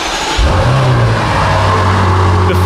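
A BMW M5's 4.4-litre twin-turbo V8 cranks and fires up with a sudden roar, then settles into a loud, deep, steady idle close by.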